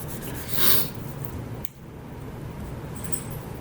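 An eraser rubbing out a letter on paper, soft scratchy scrubbing strokes with a louder swipe early on, heard up close and quiet, with no talking.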